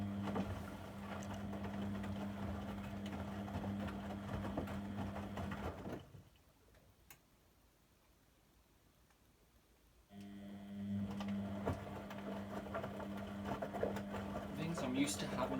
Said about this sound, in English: washers are very noisy when they're cold.